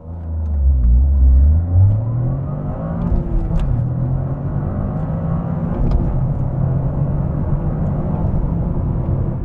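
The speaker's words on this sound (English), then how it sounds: "I want to see if I can beat that car with another person and a more clutch-friendly launch" A Toyota GR Corolla launches from 3,000 RPM with a passenger aboard and accelerates hard to 60 mph. Loud, close engine roar climbs in pitch, shifts gear, then keeps pulling in a steady drone.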